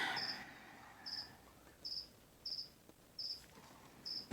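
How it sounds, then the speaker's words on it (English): A lone cricket chirps in short, evenly spaced bursts, six in all, faint and steady against quiet room noise. "There's that one cricket. I don't know if you guys can hear it."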